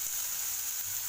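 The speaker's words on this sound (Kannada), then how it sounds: "ಓಕೆ, ಇವಾಗ ಆಲೂಗಡ್ಡೆ ಹಾಕ್ಕೊಳ್ತೀವಿ." Potatoes fry in hot oil, giving a brief, steady, close hiss of sizzling with no other sounds.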